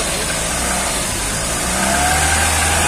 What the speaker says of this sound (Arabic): انا هشوف دلوقتي لما ادوس البوابه كاني بدوس بنزين، هشوف هل بقى المحرك هيتجاوب ولا يقف